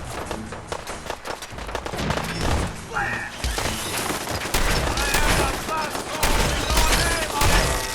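Rapid bursts of automatic turret gunfire from a Fallout 4 fight, sustained and dense throughout, with someone talking intermittently over it.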